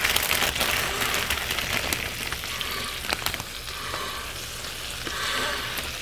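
Spinach sizzles and crackles in melted butter in a pan, a steady close frying hiss with light popping and stirring.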